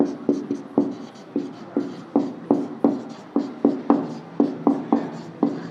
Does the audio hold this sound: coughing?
no